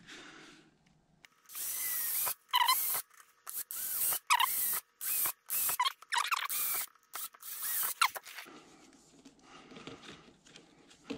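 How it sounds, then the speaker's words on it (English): Repeated short bursts of a high-pitched power drill turning a larger bit to remove burrs from drilled holes in metal, whirring and grinding, stopping and starting in quick succession, close up with quiet pauses between. "take a bigger drill bit and just turn it around, and that just cuts that extra burr off the edge"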